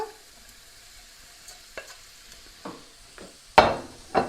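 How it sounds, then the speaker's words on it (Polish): Bell pepper tipped into a frying pan with chicken: a faint low sizzle, then scattered clinks and a sharp loud rustling sizzle as the pieces land near the end. "Wrzucamy na patelnię paprykę."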